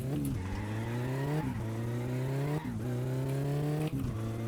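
Car engine in the driving game My Summer Car, revving up through gears with repeated upshift drops, a steady loud motor drone running continuously with no talking.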